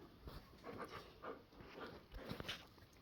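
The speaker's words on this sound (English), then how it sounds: "Hey, you noisy dog, ain't you?" A dog panting fast and rhythmically at close range, with soft breathy snorts and a hint of whining, fairly quiet and with no talking over it.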